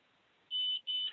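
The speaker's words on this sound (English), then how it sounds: "You guys heard it beep, and it says auto engaged." A tractor's autosteer engages with two short electronic beeps, a longer high tone followed by a second after a brief gap, clear and close against a quiet background.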